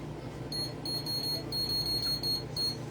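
A kitchen timer being set for about ten minutes while food goes into a hot oven: a rapid series of faint, high electronic beeps in irregular bursts over a low, steady kitchen background hum.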